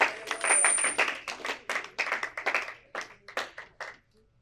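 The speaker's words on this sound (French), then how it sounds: "Let's put our hands together" An audience at a Mother's Day church service claps in honor of mothers, a fairly close scatter of applause that starts full and thins into sparse, uneven claps before fading out.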